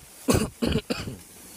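A person coughs three times in quick succession, close and fairly loud, during a tilapia fishing outing, followed by quiet.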